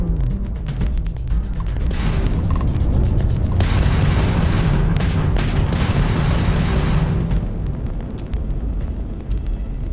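Heavy booming weapon fire and explosions roll on continuously from a space combat sequence in the Starfield video game as a homing missile is fired at an enemy ship, loud and dense, with an intense stretch in the middle.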